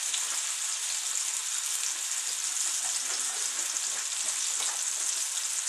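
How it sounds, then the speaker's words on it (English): A venison neck roast sears in a scalding hot pot, giving a steady bright sizzle and crackle of hot fat that holds evenly throughout at a modest level, with no talking. "all I'm trying to do is sear this on every side and seal in the juices"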